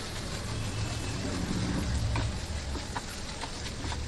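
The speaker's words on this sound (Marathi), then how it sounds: "आता हे मिश्रण छानपैकी आपल्याला परतून घ्यायचं आहे" Onion sizzling and frying in a pan with turmeric, coriander-cumin powder, red chili and asafoetida, a steady close hiss with occasional stirring scrapes throughout.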